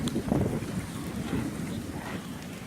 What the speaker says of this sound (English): Big skies, we're getting gusty winds now.